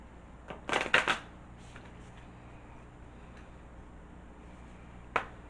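A short burst of tarot cards riffling and slapping together during shuffling, followed by quiet and a single sharp card snap a few seconds later.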